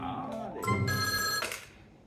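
A telephone rings in a French children's Halloween cartoon, a loud bright electric bell trill lasting about a second before it fades, with no talk over it.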